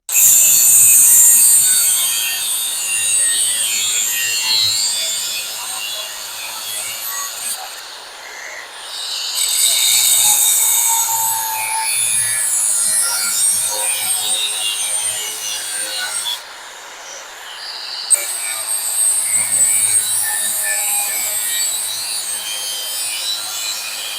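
A SeeSii cordless angle grinder cuts continuously with a loud, steady, high-pitched grinding roar. It dips briefly a couple of times, and no one speaks.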